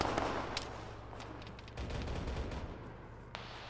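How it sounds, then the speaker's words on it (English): Autocannon fire from a BMP infantry fighting vehicle in the military game Arma, heard as a steady run of rough, rapid booming bursts at moderate distance, with no talk. "We've got auto cannon fire to the west northwest."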